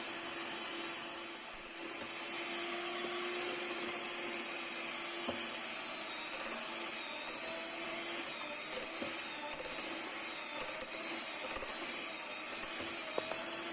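An electric stand mixer kneads donut dough at 58% hydration with a steady, moderately loud motor whir and hum that runs continuously, with faint clicks and knocks scattered through it.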